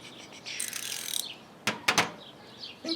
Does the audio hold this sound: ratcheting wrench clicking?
yes